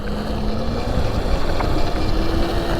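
An electric go-kart powered by a Sur Ron motor drives at full throttle on a public highway, a continuous rising motor whine mixed with heavy rushing wind noise, close and loud.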